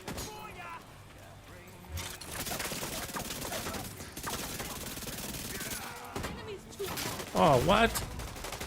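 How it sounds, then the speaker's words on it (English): Heavy shotgun fire in The Division 2, loud repeated blasts and bursts under ongoing battle noise, with a sharp, intense blast near the end and a voice exclaiming briefly. "Those shotguns are hard on shields."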